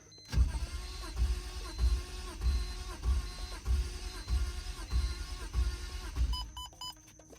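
A turbocharged BMW E46 engine cranks over on its first start attempt, the starter churning in a steady, slow rhythmic pulse of about three beats per second, loud and close, followed near the end by a few faint electronic beeps.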